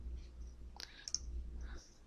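A few quiet computer keyboard keystrokes typing a command, sparse soft clicks close by in a near-silent room.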